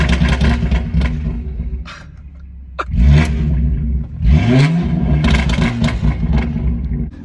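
A 2017 BMW 340i with the B58 engine, catless downpipe, custom axle-back and muffler delete revs hard several times, loud and close, each blip climbing then dropping off with raspy crackle and rumble between pulls.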